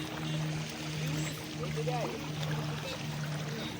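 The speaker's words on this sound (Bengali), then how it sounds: "জলটাও বেশি আর স্রোতটাও অনেক" Fast flood water rushing over a submerged bridge, a steady broadband roar with low engine-like hum beneath and faint voices in the background throughout.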